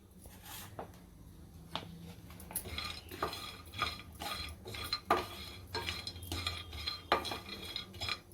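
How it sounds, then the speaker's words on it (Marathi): Grated coconut is dry-roasted in a hot pan without oil, a utensil repeatedly scraping and tapping the metal with irregular clinks and soft stirring rustle, close and fairly quiet, no one talking. "आता आपल्याला खोबरं भाजायचं आहे, तेल न टाकता आपल्याला असं सुक्कच भाजून घ्यायचं आहे गरम पॅनमध्ये।"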